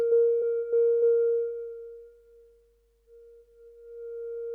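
S.K.Y. Keys plug-in notes with a slow attack ramp: a pure, steady electronic tone holds one pitch, with a few soft repeated note onsets early on, then swells back in gradually after a dip, quiet and alone.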